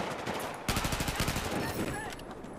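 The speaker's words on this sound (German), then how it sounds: "da hat noch einer auf mich geschossen" Rapid automatic gunfire from a Battlefield 4 match on the Panther: dense, sustained bursts, loud and close, with repeated sharp cracks throughout and a noisy battlefield backdrop.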